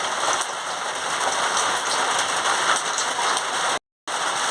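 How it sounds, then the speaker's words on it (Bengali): Steady, loud rain drums on a tin roof over a home kitchen where a chutney is being cooked, a dense continuous patter that drops out briefly near the end before resuming. "টিনের উপরে জল পড়ছে বলে আওয়াজটা জোর হচ্ছে"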